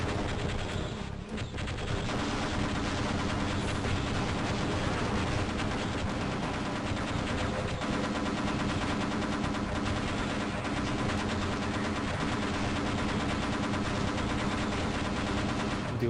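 Turret gunfire in Half-Life, a dense, unbroken roar of rapid shots that stays loud and constant for the whole stretch with only a brief dip near the start.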